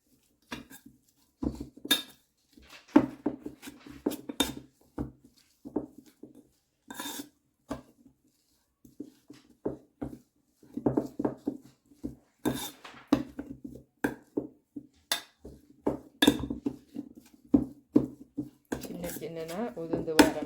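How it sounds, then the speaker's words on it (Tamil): A spoon works through tinned fish for a Jaffna-style sambal, giving irregular bursts of scraping, tapping and clinking against the dish, with short pauses between strokes and a voice speaking over parts of it. "கரண்டியால் மசிக்கிறேன்"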